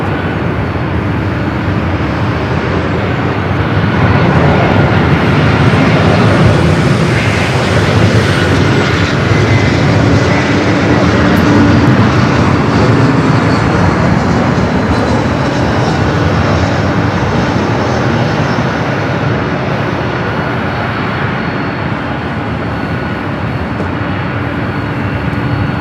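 An airliner departs LAX bound for Atlanta with a loud, broad roar of jet engines that swells and holds for the whole stretch, with no voices.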